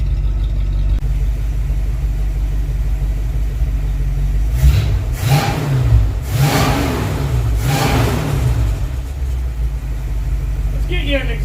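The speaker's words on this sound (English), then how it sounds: "I'll set you guys up and we'll give her some revs." A rebuilt Dodge 318 Poly V8 idles loudly then revs up in four sharp blips close by, each rise and fall clearly audible before settling back to a rumbling idle.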